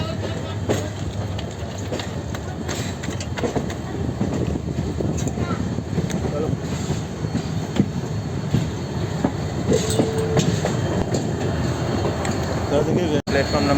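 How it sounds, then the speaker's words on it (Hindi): The Guwahati–Silchar Poorvottar Sampark Kranti Express rolls steadily past with a loud, continuous rumble and faint wheel clatter, and a voice speaks over the noise. "गुवाहाटी शिलचर पूर्वोत्तर संपर्क क्रांति एक्सप्रेस।"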